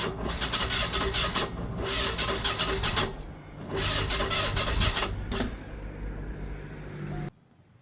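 An Oldsmobile engine that has jumped out of time spins over in long cranking bursts, about three rough churning runs with brief gaps, ending in a short quieter stretch before cutting off.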